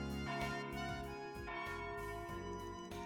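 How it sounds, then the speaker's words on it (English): A chapel bell in the artisanal district of the video game Trails Beyond the Horizon rings for evening service at 6:30 p.m., sounding in several rounded, repeated strikes under a sustained musical backdrop, fairly soft and alone without talk. "Oh, is that the bell from the chapel in the artisanal district?"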